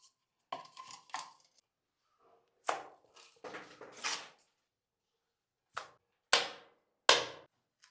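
Several sharp, close hammer blows drive a nail to fix a shower diverter fitting in a bathroom, spaced irregularly with short pauses and no talk.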